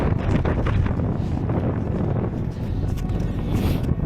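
Gusts of wind buffet the microphone on a summer mountain trail toward Svishti Plaz, a continuous rough low roar that rises and dips slightly, close and loud, with no speech over it.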